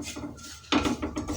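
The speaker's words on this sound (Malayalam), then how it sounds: "ഇനി നമുക്ക് അത് നന്നായിട്ട് ഇളക്കി കൊടുക്കാം." Grated coconut is stirred in a heated clay pot (chatti): a few brief, close, fairly quiet scrapes and knocks of a spoon against the earthenware, with a sharper stroke near the end.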